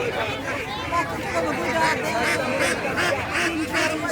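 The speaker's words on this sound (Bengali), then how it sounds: "আর যে এখানে দেখতে পাচ্ছি কিছু পাতি হাঁস" Domestic ducks quack amid a busy rural livestock market in Mirzapur, Bangladesh, their nasal calls scattered through loud crowd chatter and nearby talking voices.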